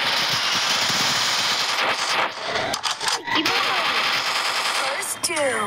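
Rapid MP5 submachine gun fire rattles in the Free Fire video game, dense bursts of shots rolling almost continuously with short gaps, loud and close over game effects.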